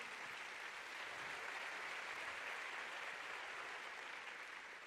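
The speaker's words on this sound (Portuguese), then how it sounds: "Pode aplaudir ao Senhor." A congregation at a bilingual church service applauds for the Lord, a dense, steady wash of clapping that holds evenly loud for the whole stretch with no voices standing out.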